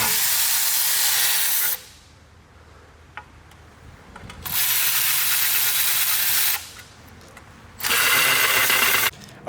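Bolts on an engine's main plate are tightened ahead of a supercharger install during an engine swap, with long, loud bursts of hissing, whirring power-tool noise separated by quieter pauses.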